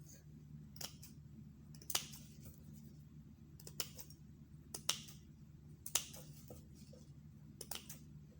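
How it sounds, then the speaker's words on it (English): Sharp, quiet scissor snips cutting web net for a fascinator, a handful of separate crisp clicks spaced a second or so apart over a faint background hum. "Cut it small, small with your scissors."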